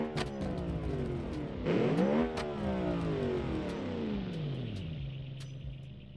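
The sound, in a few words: 3.5 liter V8 engine of a car revving in the video game Automation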